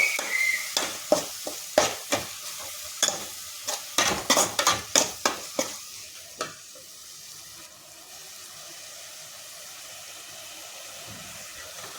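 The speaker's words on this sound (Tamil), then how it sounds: "தக்காளி கொஞ்சம் நேரம் வணங்கட்டும்." Chopped tomatoes sauté in a pan while a spoon stirs them, giving a run of sharp scraping taps over the first half and then a steady low sizzle on its own.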